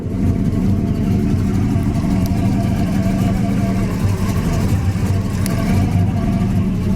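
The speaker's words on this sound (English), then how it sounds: "this engine's got that gear drive in it, which gives it kind of that whiny sound to it" A 1969 Pontiac GTO engine fitted with a gear drive runs at a steady idle close by, a constant low rumble with a faint whine layered over it, continuous throughout without any revving.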